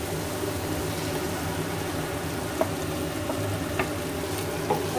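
Roasted, stone-ground eggplant goes into a pan of cooked tomatoes, giving a steady, close sizzle of frying with a few soft scrapes or clinks along the way, and no voices.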